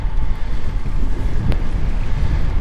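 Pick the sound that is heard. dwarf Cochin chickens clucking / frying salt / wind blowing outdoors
wind blowing outdoors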